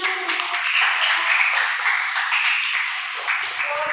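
Classroom applause fills the whole few seconds, a dense, fairly close burst of many hands clapping that starts abruptly and keeps a steady level before tapering slightly near the end.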